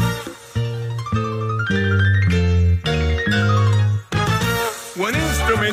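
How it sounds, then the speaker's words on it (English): Piano notes and chords played in a children's TV music segment, a bright sequence of sustained tones rising and falling, loud and continuous with a brief gap near the end. "The piano sounds like this."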